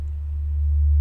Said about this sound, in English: So you'll see the sine wave